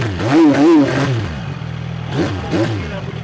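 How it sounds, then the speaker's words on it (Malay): A CFMoto 675 NK three-cylinder motorcycle engine revved in two short bursts, rising and falling sharply over a close idle rumble. "Bunyi dia ni, tengok garang ke tak bunyi 3 silinder ni."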